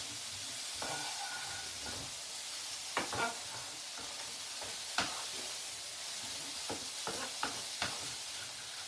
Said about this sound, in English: Just put in your peas, frozen, because they're going to cook anyway, and just move it around the pan.